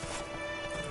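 Roach the horse gallops in The Witcher, a brief burst of quick hoofbeats close by over a constant droning background.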